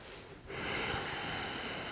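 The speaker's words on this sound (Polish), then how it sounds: "Weź sobie dwa głębokie oddechy." A deep breath drawn in and held during a home yoga session, a soft airy rush that swells after a quiet start and stays steady to the end, close and alone with no talking.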